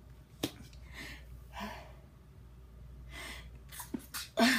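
A person sneezes once, a sharp burst near the end, preceded by a few quieter breaths and sniffs in a quiet room, close to the microphone.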